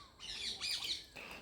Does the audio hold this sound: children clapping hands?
no